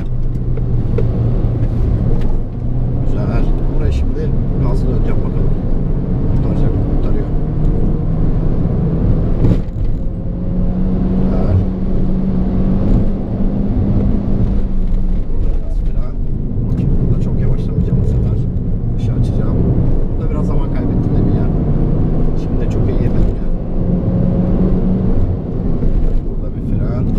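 A Peugeot 308 GTI or 208 GTI corners under throttle, its engine droning steadily inside the cabin as revs rise and fall. A driver talks over the engine noise throughout.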